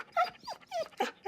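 A dog gives a few close, soft whimpering yips and short whines in quick succession, fairly quiet with no talk over them.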